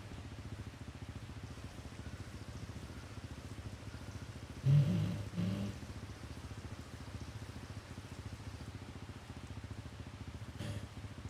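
Steady rain falls in Farming Simulator 25 on a Scottish farm map, a soft, even hiss throughout with a couple of brief louder thumps near the middle.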